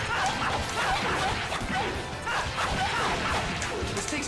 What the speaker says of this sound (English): The dog is just like appearing to knock me down and then running away from me